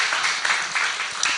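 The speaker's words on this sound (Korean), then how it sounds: "박수 보냅니다. 박수." A Korean church congregation breaks into brief, dense clapping, a quick burst of applause heard alone without any voices.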